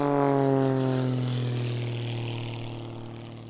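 A biplane's propeller engine drones through aerobatic climbs and descents at an Eastbourne airshow. The buzzing tone is steady and fairly distant, and its pitch slowly falls as the sound gradually fades.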